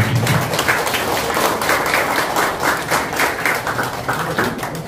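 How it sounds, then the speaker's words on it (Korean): Wedding guests clap loudly in a close, lively round of applause after a couple is pronounced married, steady and dense throughout the short burst. "다시 한번 큰 박수 부탁드립니다."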